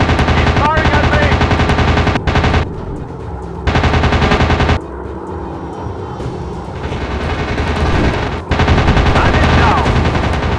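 Rapid machine gun fire in a flight combat video game, loud and continuous in long bursts broken by short pauses, over a steady aircraft engine drone.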